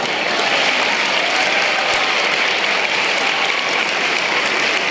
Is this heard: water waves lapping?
no